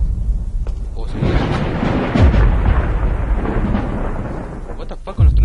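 Repeated thunder rumbling through a Slender horror game, sustained loud broadband roar over several seconds with heavier low booms, nearly continuous rather than separate claps.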